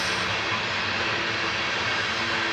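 BNSF coal train approaching, a loud, continuous broadband rumble and roar of rolling railcars with no voices.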